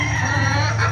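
A chicken makes a brief clucking sound, close and moderately loud, over a low background hum.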